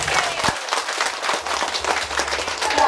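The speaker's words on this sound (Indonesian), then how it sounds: "Mari kita tepuk tangan." Audience applause at a community dialogue event with residents, steady dense clapping throughout, fairly close and loud, with no talking over it.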